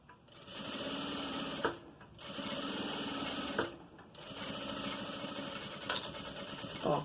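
A sewing machine stitches fabric for a trapezoid makeup bag in close, steady motor runs, with three bursts of running separated by brief pauses.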